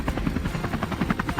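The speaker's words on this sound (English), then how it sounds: "The helicopter roars to life, kicking up dust in every direction" Helicopter engine and rotor roaring steadily at takeoff on a farm, kicking up dust at sunrise, with a loud continuous rhythmic chop throughout, no voices.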